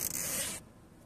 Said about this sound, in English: The hoodie that zips all the way up.